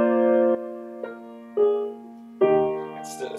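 Sustained harmonic chords on a keyboard instrument, a dominant chord played without its seventh, several struck in sequence with pauses between, clear and close with no talking.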